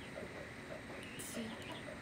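Chickens cluck softly below a house, short faint calls scattered across a quiet, low-level background, with no speech over them.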